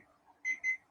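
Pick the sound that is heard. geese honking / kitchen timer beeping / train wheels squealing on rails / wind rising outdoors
kitchen timer beeping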